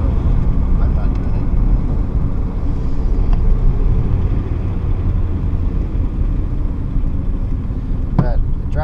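A 1949 Ford Deluxe Shoebox driving around town, its engine a steady, close low rumble and road roar that holds evenly throughout, with a brief higher-pitched sound near the end.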